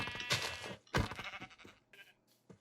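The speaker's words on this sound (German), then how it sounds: "Ich muss mal kurz ein Schaf töten für Essen." Sheep in the Minecraft video game bleating twice in quick succession, loud and close, followed by fainter game sounds and a short tap at the end.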